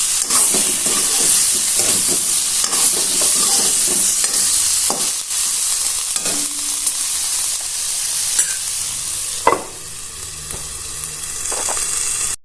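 Dry hilsa and eggplant frying in hot oil, with a steady close sizzle and hiss throughout, broken by several scraping stirs of the pan and occasional sharper clinks.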